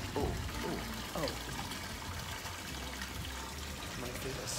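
Hot spring water in Hakodate, Japan, sloshing and trickling around bare feet, a steady close watery wash with a few splashy bursts near the start.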